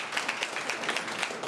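An audience applauds a speaker at a youth entrepreneurship skills programme launch, with steady, dense clapping running throughout the short stretch and no talk over it.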